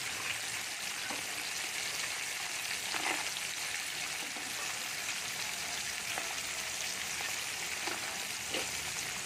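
Vegetable pickle with raw tamarind fries in a pan, giving a steady, dense sizzle with faint crackles throughout, close and alone without any talk.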